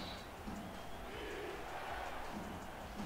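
Stadium crowd in San Antonio during a football game, a dense, sustained roar of many voices cheering and yelling, steady and far-off throughout.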